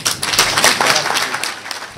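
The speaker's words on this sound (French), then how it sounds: "Des applaudissements nourris du public qui témoignent de l'intérêt accordé au thème abordé" A conference-debate audience applauds heartily, with dense, fast hand clapping from a crowd that is loud and close at first and then eases slightly over two seconds.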